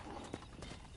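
Horse hooves galloping during a ride in Red Dead Redemption, a steady fast clip-clop rhythm, close and muffled under a dense game soundscape.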